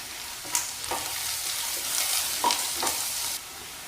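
Onion, carrot and curry leaves sizzle steadily in a pan, close and clear, while a spatula scrapes and stirs with several distinct strokes.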